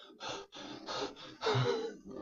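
Out-of-breath monster in the Monster Hunter video game panting in four to five rhythmic breathy bursts, each a rough gasp with short pauses between, fairly close and with no talk over it.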